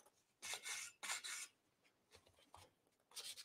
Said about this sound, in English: I'm actually just gonna lightly distress it to bring back some of that base coat